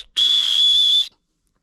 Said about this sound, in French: C'est mon petit sifflet.